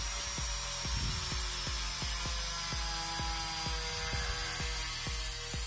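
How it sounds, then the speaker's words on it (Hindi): An angle grinder cutting a bike mudguard to a cardboard template: a steady high whine with a regular, rhythmic thumping pulse throughout, loud and close, with no talk. "इस ग्राइंडर की मदद से मैं इस कार्डबोर्ड के शेप में ग्राइंडर को चलाऊँ।"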